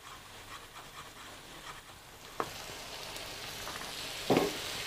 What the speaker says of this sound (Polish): Mieszamy dokładnie.